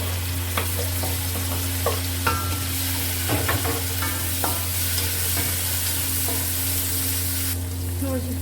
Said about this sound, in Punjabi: ਪਹਿਲੇ ਵਿੱਚ ਕਰਦੇ ਟਮਾਟਰ ਤੇ ਹਰੀ ਮਿਰਚ ਨੂੰ